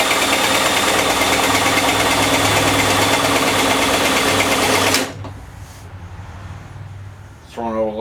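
Yard Machines push mower engine running loud and buzzy up close, a rapid rattling drone that cuts off abruptly partway through, leaving quiet background and a brief voice near the end.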